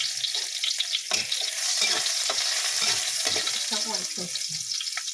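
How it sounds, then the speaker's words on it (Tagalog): Sliced onions sauté in hot oil in a home kitchen pan as a dish of mixed vegetables with chicken gets started, with a steady close sizzle broken by scraping stirs. A voice speaks briefly over the frying. "Nagisa na tayo. So, ayan ang ating sibuyas."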